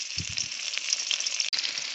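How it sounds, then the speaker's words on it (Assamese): Two eggs frying in a pan give a steady, close, crackling sizzle that runs without a break, with no voices. "এতিয়া মই ফ্ৰাই কৰিছোঁ 2টাহে ডিম"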